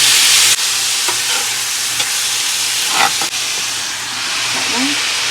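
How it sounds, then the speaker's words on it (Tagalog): Onion, ginger, mushroom and carrots sizzle loudly in a hot pan, a steady close hiss of frying broken by a few scrapes and stirs of the utensil. "We saute our onion and ginger, then mushroom and carrots."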